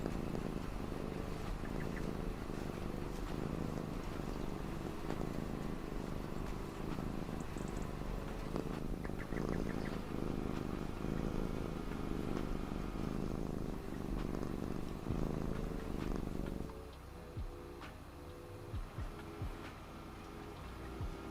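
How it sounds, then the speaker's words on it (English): Cats purr close to the microphone in a steady, rumbling drone that continues for about twenty seconds and grows quieter and more broken near the end, with no voices. "They're cats."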